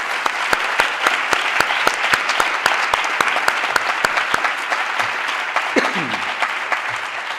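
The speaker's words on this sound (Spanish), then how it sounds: "Y aprovecho y un aplauso y un abrazo a los cuatro." An audience at an ADHD conference session applauds after personal testimonies, a steady wash of clapping with sharp regular claps nearby, fading slightly toward the end as a faint voice begins.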